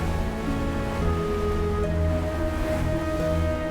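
Atlantic Ocean waves along the Tenerife coastline make a steady, rushing surf wash, with low tonal hum layered underneath throughout.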